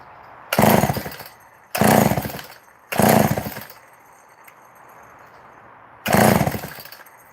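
A chainsaw with its choke on and an empty fuel tank is cranked for a start. Four loud, close bursts of roughly half a second each come in quick succession, then a pause, and the engine never keeps running.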